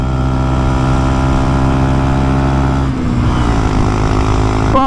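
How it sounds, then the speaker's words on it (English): Honda Monkey motorcycle with revised gearing, its small engine revving hard and holding at the rev limiter, loud and close, then dropping briefly at a shift before climbing again. "you do hit the limiter quite easily on this revised gearing"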